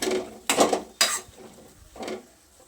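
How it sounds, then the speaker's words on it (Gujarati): A masher works vada pav potato masala in a pot, making a few close, dull knocks and scrapes spaced about half a second apart, with quieter mashing between and no voices. "મેસરથી બધો મસાલો સરસ મિક્સ કરી લઈશું."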